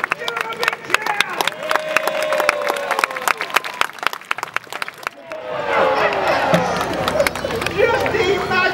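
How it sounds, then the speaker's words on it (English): Crowd at a Warwick Castle show clapping and cheering, dense rapid claps with whoops and shouted voices, loud and close, swelling into a fuller roar of cheers partway through. "Give him a big cheer!"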